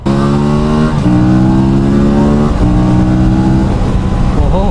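Aprilia Tuono 457 motorcycle engine revving hard, loud and close, its pitch climbing through several sharp rises and drops as the throttle is blipped repeatedly with no pauses.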